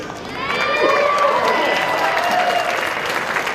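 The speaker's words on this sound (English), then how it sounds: "If they are successful, we would appreciate the cheer." Audience at a Norwegian folk dance afternoon breaks into sustained applause and cheering with scattered shouts, loud and continuous throughout with a dense crowd texture.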